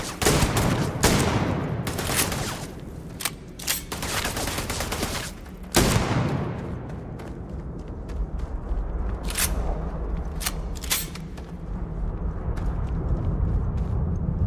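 Gunfire in the video game Starfield: loud bursts of rapid shots and sharp single cracks, dense at first, then spaced-out sharp blasts over a continuous rumbling background.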